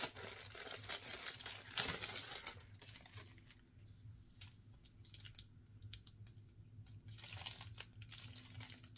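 Packaging crinkling while a budget beauty box is unboxed, with soft crackling and rustling handled close by, louder at the start and end, with quieter stretches in between.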